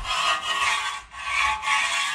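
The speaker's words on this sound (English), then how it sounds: "Head of your trowel, scraping the bead." A plastering trowel scraping along a metal wall bead, three long, steady, rasping strokes with brief pauses between them, close and clear with no voices.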